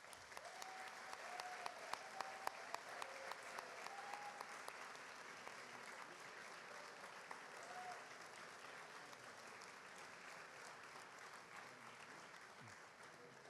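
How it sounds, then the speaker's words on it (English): A full room at the Biennale Architettura 2025 awards ceremony applauds steadily, with dense clapping that stays even for a long stretch and some sharper claps early on. "A big applause for Donna."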